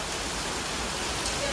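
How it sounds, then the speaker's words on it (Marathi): Heavy rain falls outdoors in a steady dense hiss, close and unbroken for a short stretch. "खूप पाऊस पडतो आमच्या इथे."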